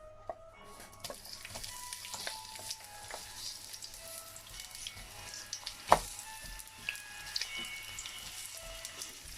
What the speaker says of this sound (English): Now let these just saute for about a minute.